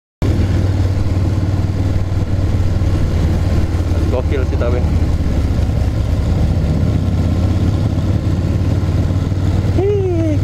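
A borrowed 1200cc motorcycle runs with a steady, rumbling low engine note heard up close throughout. A rider speaks briefly over it, and a rising rev sweep comes near the end.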